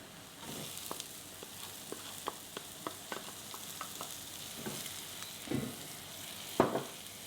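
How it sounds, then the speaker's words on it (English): Capsicum, onion and grated cauliflower sautéing in a pan for pav bhaji, a steady soft sizzle broken by spoon taps and stirring scrapes, with no one talking. "I'm just going to saute this for a few minutes."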